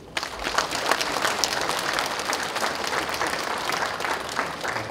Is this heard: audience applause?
yes